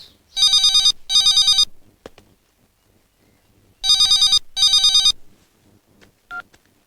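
A telephone rings in two pairs of bright electronic trills, each burst about half a second long, separated by a silent gap, followed by a couple of faint clicks as it is picked up.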